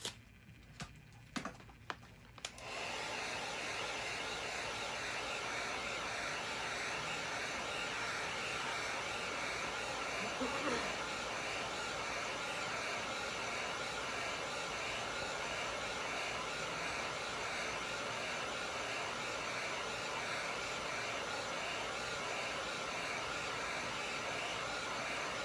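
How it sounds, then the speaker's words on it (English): A heat gun blows steadily over an epoxy-coated white shimmer tumbler, a constant loud airy roar that runs unbroken for about twenty-two seconds after a few brief knocks at the start. "I'm going to hit it with a heat gun."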